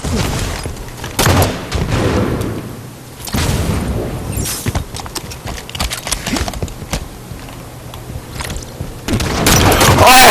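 A grenade blast and gunfire ring out during a Halo 5: Guardians match, with heavy booms and bursts of shots mixed with players' excited talk and the game's effects.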